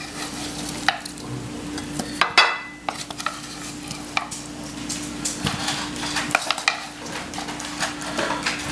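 Potatoes frying in a pan while being stirred, scattered scraping clicks of a utensil against the pan over a soft sizzle, close and moderately loud, no speech.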